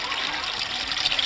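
Water gushes steadily from a pot-sized container pour, a close, bright continuous splashing rush with no pause through the short moment.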